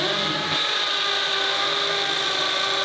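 Parkside PSBSA 20 Li A1 cordless drill in percussion mode at speed 2, boring a test hole: a steady, loud high-pitched whine with a rough grinding edge that holds without a break for about three seconds.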